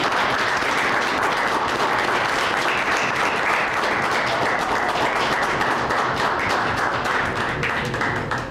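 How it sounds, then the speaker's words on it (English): Audience at a police chief's citizen award ceremony claps steadily and loudly for the full stretch, a dense, sustained applause that tapers slightly at the very end. "let's give them a round of applause"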